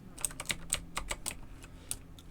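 Fast, close clicking of a computer keyboard while playing a Roblox bus-driving game, irregular rapid keystrokes in quick bursts with short pauses, no talking.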